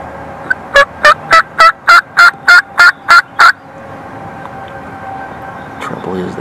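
Wild turkeys in a Kentucky spring woods: a tom's loud, rapid run of about ten gobble bursts, then quieter hen calling and soft ambient sounds afterward.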